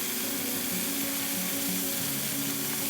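Axis deer loin sautés in a pan with a dense, continuous sizzle and crackle, close and loud for a few seconds, with no voices over it.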